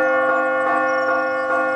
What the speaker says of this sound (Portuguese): Agora você pode tocar o sino.